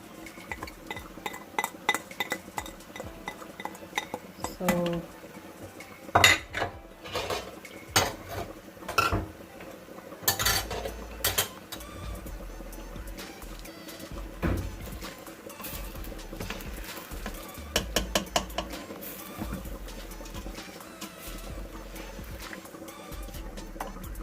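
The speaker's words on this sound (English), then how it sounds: "So I'm mixing well, combining well and mixing well." Spoon stirring methi rice with fresh coriander in a pan, steady clinks and scrapes of metal on the pan in irregular bursts, close and clear with no speech.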